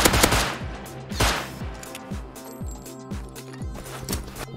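Gunfire in the video game Rust: a close burst of rapid automatic shots followed by a string of evenly spaced single shots with ringing, clinking tails, loud and with no talk.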